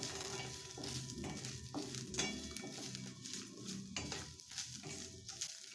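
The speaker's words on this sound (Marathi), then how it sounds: "नंतर अर्धा चमचा जिरे एक मिरची घालायची आहे आणि अजून दोन मिनिट छान परतून घ्यायचे आहे" Cumin seeds and a green chili sauté in a pan for soybean curry, a faint crackling sizzle with repeated scraping stirs and light utensil taps, close but quiet, without speech.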